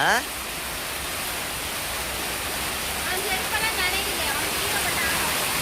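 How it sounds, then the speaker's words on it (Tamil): Heavy rain pours down in a steady, dense hiss that fills the whole clip, loud and unbroken, with faint voices underneath. "சரியான மழை."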